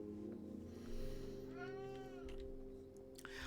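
A cat meows once, soft and faint, a rising-and-falling cry heard over a steady low electronic hum from a Factorio game in the background.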